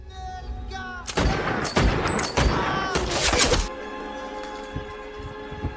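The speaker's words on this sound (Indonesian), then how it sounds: "Seorang pemuda tiba-tiba saja memberondongnya dengan tembakan." A rapid burst of gunfire from the film The Devil's Double rattles out in several loud, cracking volleys over a couple of seconds, then fades to a quieter background rumble.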